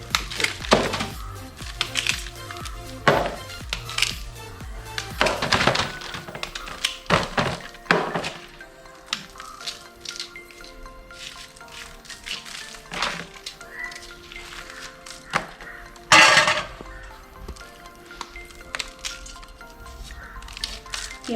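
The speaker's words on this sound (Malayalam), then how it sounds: "നമുക്ക് ഈ കപ്പനെ വെട്ടി നുറുക്കാം." Tapioca (cassava) being chopped into pieces with a knife on a board: a series of close, sharp thunks and cracks in irregular bursts, some louder strikes standing out.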